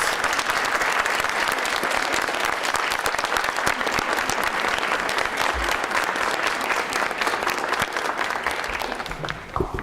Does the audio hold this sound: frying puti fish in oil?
no